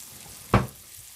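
Food frying in a pan for a rare ribeye steak with potatoes and asparagus gives one sharp spitting pop over a faint low sizzle, close and brief.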